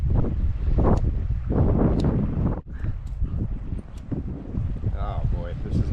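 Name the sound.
cold wind on a river island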